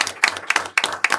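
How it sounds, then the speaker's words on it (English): A few people clap for a cadet at a school district board meeting, giving sparse, close, rhythmic claps in regular beats over a brief moment. "Okay, give her a round of applause"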